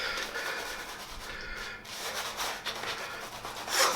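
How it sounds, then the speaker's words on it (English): A razor shaves a lathered head at close range, a continuous scraping rasp with short pauses between strokes and no talk. "At this point everybody turns off because I'm shaving the head."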